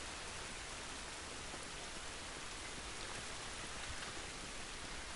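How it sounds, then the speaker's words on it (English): Steady, dense rainfall in The Last of Us fills the scene, a continuous hiss of drops on surfaces that holds evenly loud throughout with no voices. "This rain ain't gonna do us any good."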